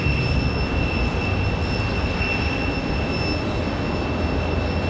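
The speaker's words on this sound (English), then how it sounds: "We're gonna get on with some rapid fire departures here." An American Airlines jet departing Raleigh-Durham International for Phoenix gives a continuous loud engine roar with sustained high whining tones riding over it, steady throughout, with no speech.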